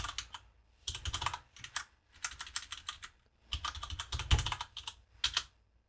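Someone types a command on a computer keyboard in several quick bursts of crisp, close key clicks separated by short pauses. The clicks are fairly quiet overall.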